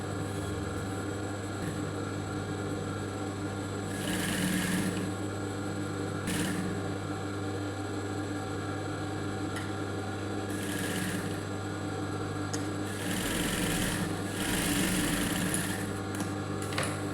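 Sewing machine stitching along the edge of a blouse lining, a steady close mechanical whir running throughout with a few louder bursts over a constant low motor hum.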